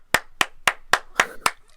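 A single person claps six times in a steady, evenly spaced rhythm, each clap sharp and close, with no talking.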